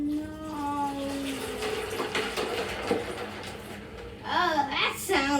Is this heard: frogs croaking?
no